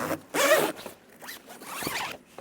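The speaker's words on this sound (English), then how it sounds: "All the zippers feel really nice." Zipper on a GoFast camper tent pulled open in one strong, close burst, followed by softer, shorter zipping tugs.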